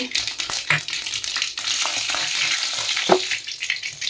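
Mustard seeds and cumin sizzle in hot oil for curd rice tempering, making a loud crackling fry with sharp pops and spatters over a busy, constant hiss.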